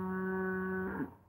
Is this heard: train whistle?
no